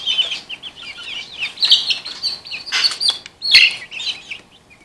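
Young chickens in a brooder peep and chirp close by, a busy overlapping chorus of high calls with a few louder bursts and faint rustling.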